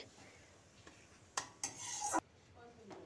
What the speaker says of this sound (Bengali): এরপর ওই তেলের মধ্যেই আমি কালো জিরে আর ওই গোটা শুকনো লঙ্কাটা ফোড়ন দিচ্ছি।